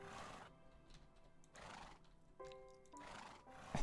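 Minecraft horses neigh in several separate whinnying bursts, near and fairly loud, spaced about a second apart, with faint background music between the calls.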